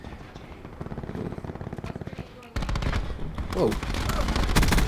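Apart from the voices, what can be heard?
KAP 45 pistol firing in Black Ops 4 video game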